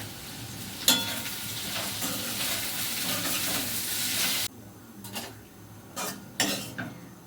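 Potatoes fry in a home kitchen pan with a loud, steady sizzle for several seconds. The sizzle then drops away, leaving a few sharp utensil scrapes and clinks against the pan.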